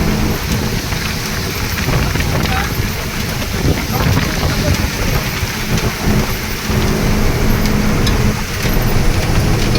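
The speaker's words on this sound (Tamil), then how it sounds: "பயங்கரமான ஆலங்கட்டி மழைங்க" Heavy hailstorm with thunder battering a vehicle: a loud, continuous dense roar of hailstones and rain pounding the body, steady throughout without clear breaks.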